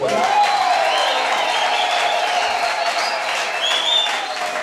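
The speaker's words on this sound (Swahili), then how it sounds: "makofi na shangwe" A congregation applauds and cheers at a church worship service, a dense, sustained wash of clapping with raised voices mixed in, close and loud throughout.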